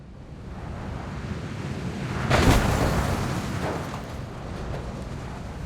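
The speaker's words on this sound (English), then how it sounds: "Wasn't that an epic explosion?" Exploding barrels go off on a roller coaster in the Planet Coaster video game, a rumbling roar that swells to a sharp blast midway and then slowly decays back into a broad, windy wash.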